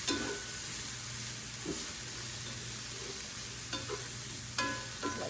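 Bacon sizzles and crackles steadily in a hot pan, a dense continuous frying hiss with a low hum beneath and a few sharper pops, close and with no talking.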